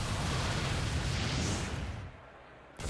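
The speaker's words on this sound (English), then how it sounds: "And now Milotic going for the Misty Explosion." Misty Explosion move in a Pokémon battle video game, a loud, dense blast of roaring noise that holds steady, then thins and fades before a sudden return near the end.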